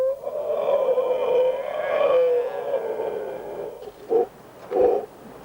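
A person imitates the cry of babous to lure monkeys, giving long wavering hooting calls followed by two short sharp whoops, close and fairly loud.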